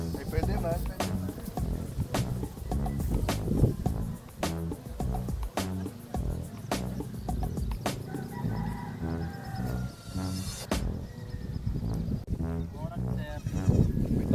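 Goats bleating close by among rhythmic knocking and a possible rooster crow, with people talking over much of the scene.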